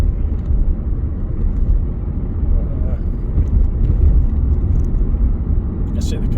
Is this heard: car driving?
yes